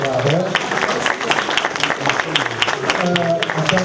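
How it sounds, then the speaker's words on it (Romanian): Audience applause at a Romanian commemoration of the 1859 union of the principalities, a burst of steady clapping from a hall crowd with some voices mixed in. "Mulțumim, Alexandru Ioan Cuza, să îl aplaudăm încă o dată."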